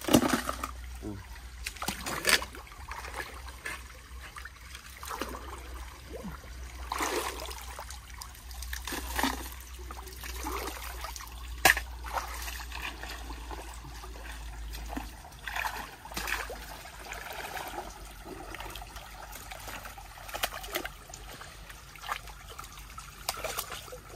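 River water trickles, sloshes and splashes in a gold pan as gravel and stones are swirled, with irregular dribbles and faint scraping over a steady low rumble, close by and fairly quiet.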